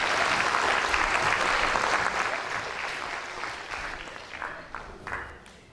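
Audience applause at a family science show as children leave the stage: a thick, continuous wash of clapping that starts full and gradually tapers off, with a few louder individual claps standing out toward the end.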